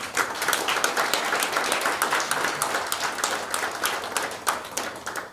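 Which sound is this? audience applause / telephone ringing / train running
audience applause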